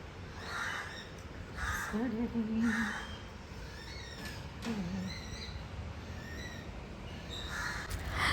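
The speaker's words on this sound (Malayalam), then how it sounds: "വീട്ടിൽ എന്താ പറയുക കോക്കറ്റെയിൽസ് ഉണ്ട് കുറേ എണ്ണം അപ്പം അതെ അതിൻ്റെ ബഹളങ്ങളാണ് കേൾക്കുന്നത്" Several pet cockatiels chatter and squawk at home in repeated bursts of shrill calls, moderately close, over a steady background hum.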